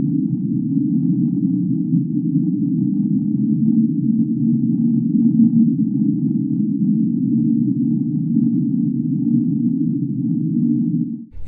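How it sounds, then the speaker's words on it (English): Mysterious underwater whistle recorded somewhere in the Pacific Ocean, a continuous low droning hum that holds steady and loud for over ten seconds without pause. "Another strange sound is called whistle."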